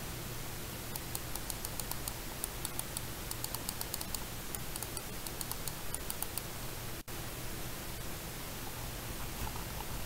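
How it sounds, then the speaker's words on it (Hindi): An HP X1000 computer mouse gives crisp, rapid clicks and the ticking of its scroll wheel in irregular bursts over a faint background hiss, with one sharp click late on; nobody speaks. "सभी माउस में आप क्लिक्स एंड स्क्रॉल की साउंड सुन सकते हैं, ये HP X1000 है।"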